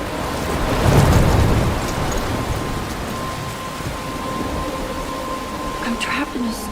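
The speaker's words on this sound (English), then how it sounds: "I'm trapped in a storm?" Rain falls steadily in a Life is Strange thunderstorm, a broad hiss with a low rumble swelling early on, and a voice speaks over the downpour.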